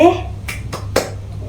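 A primary school class does a 'tepuk wow' rhythmic clap, three sharp claps in quick succession after a short burst of a teacher's voice.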